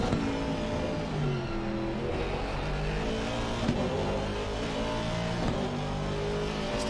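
An Aston Martin race car engine in a racing video game roars steadily at high revs at Zandvoort, shifting pitch as it accelerates, with a synthetic, game-like tone and no talking.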